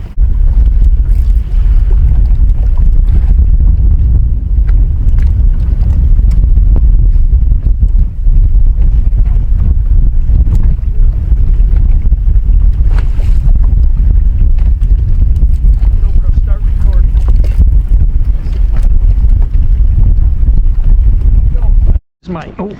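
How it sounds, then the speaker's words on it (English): Strong wind over Lake Wallula roars and buffets the microphone in a loud, constant low rush with gusty surges, cutting out briefly near the end. "The wind is starting to pick up."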